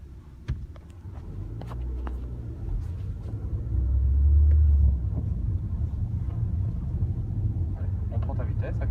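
A Volkswagen car accelerates during skid training, its engine a low rumble that swells to a louder peak midway and then settles. An instructor talks over it throughout.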